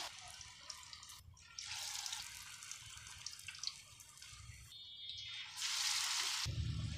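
An aloo pinwheel sandwich fries in hot ghee in a pan, giving soft bursts of sizzling and crackling that rise and fade, with a loud hiss near the end as more is added.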